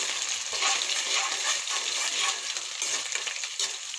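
Onion and chillies sizzle in a pan with roasted peanuts, a bright steady frying hiss with soft stirring scrapes, close and moderately loud, no talking.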